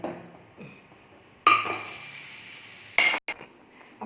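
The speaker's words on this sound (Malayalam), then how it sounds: "കുറച്ചും കൂടി മല്ലിയില ഒന്നിങ്ങനെ ഒന്ന് ഇളക്കി." A spoon stirs coriander leaves into shallot sambar in a pot, giving a few short bursts of scraping and metallic clinks separated by quiet pauses.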